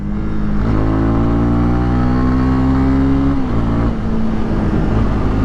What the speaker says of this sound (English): Let's do a little downshift and see how it feels.